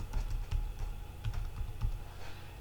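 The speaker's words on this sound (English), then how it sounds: "what I can do is type in Finish" Fingers typing on a computer keyboard at a steady pace, a run of light, close key clicks with brief pauses between them.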